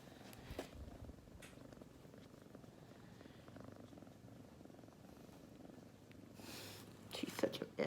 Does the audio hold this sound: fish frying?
no